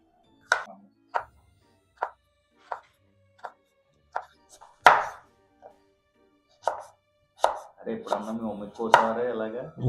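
Tomatoes sliced on a cutting board for homemade chips, with a row of separate knife chops in steady rhythm, then faster clustered cuts toward the end, close and clear with no talk.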